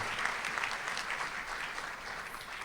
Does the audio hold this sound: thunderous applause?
yes